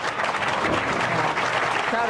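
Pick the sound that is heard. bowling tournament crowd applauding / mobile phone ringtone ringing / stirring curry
bowling tournament crowd applauding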